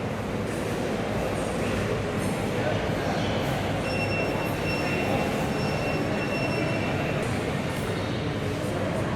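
A train rumbles steadily at a railway station on the way to Luang Prabang, with high metallic wheel squeals riding over the continuous roar and voices murmuring nearby.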